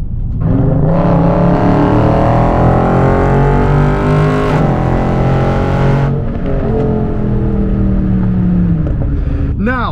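A Dodge Charger Scat Pack's 6.4-liter, 485-horsepower V8 revs and accelerates loudly, its pitch climbing in long sweeps, easing briefly, then surging again up close.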